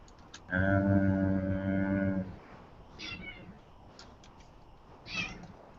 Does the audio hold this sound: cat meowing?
yes